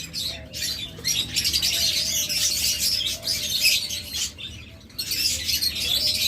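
Dense, high-pitched chirping from many king quail, coming in busy bursts over a low background hum.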